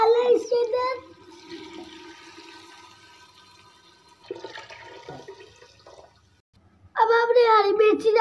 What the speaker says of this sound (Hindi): 4 गिलास पानी डालना है इसके अंदर।